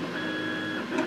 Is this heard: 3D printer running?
yes